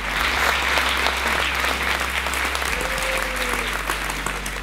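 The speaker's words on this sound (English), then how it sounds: "please give a massive round of applause for Kath Sainscliffe and Patricia Cornwell" Loud, sustained applause from a bookshop event audience welcoming author Patricia Cornwell and her interviewer; dense continuous clapping fills the room with a low hum beneath it and no speech.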